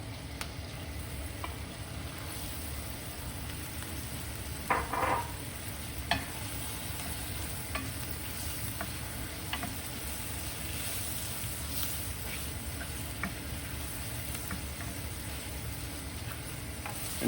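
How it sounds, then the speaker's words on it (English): Chopped clam meat sizzling in a pan, with a steady frying crackle and hiss throughout and a brief stir of clatter partway through. "it's time to add the clam meat"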